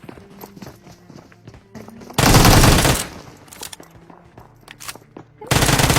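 Uzi fire in a battle royale video game: two loud sustained bursts of rapid automatic shots, with quieter footsteps and small in-game sounds in the gaps between them.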